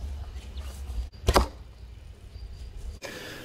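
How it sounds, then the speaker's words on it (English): A single sharp, close thwack of an arrow striking a target, preceded by a brief whoosh and followed by quiet outdoor background. "An arrow hitting the target."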